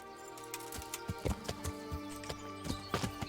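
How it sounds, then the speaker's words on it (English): A horse in the medieval game Kingdom Come: Deliverance, its hooves clip-clopping in an uneven walking rhythm, quiet and close, with a few soft snorts or whinny-like tones over a low background. "Horsey."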